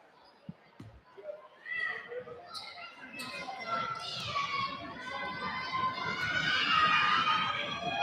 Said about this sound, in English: Crowd's getting loud behind him